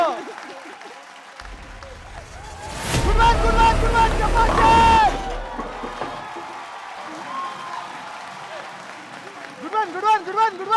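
A crowd at a bowling league match breaks into a burst of applause lasting a few seconds, mixed with cheering and chatter. Voices talk before and after the clapping.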